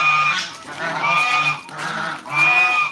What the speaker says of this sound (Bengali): হাঁসগুলো বিরক্ত করতেছে